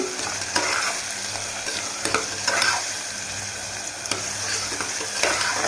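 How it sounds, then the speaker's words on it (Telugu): Chopped onions with salt sizzling and frying in a pan for a raw banana and mango curry, steady close crackle with a few stirring scrapes of a spoon, no voices. "ఉల్లిపాయలు వేయడానికి ఇందులో కొంచెం సాల్ట్ వేసుకున్నాను"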